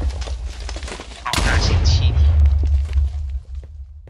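An explosive air gun fires in a Minecraft Legends superhero mod: a sudden loud blast with a booming low rumble and crackling bursts that roll on for a couple of seconds, then fade. Game speech carries on underneath.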